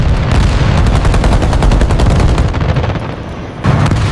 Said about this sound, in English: British guns suddenly open fire